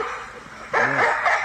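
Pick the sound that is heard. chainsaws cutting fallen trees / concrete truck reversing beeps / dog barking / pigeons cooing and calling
dog barking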